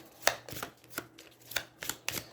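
Cards from an Aeons End board game deck are shuffled by hand, giving a series of sharp, crisp riffling snaps at an irregular rhythm, about eight in quick succession. They sound close and alone, with no talk.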